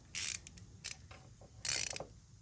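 10 mm ratcheting wrench working on a rusty bolt of a Mazda NA Miata, giving short bursts of sharp clicking separated by brief pauses, close and moderately loud.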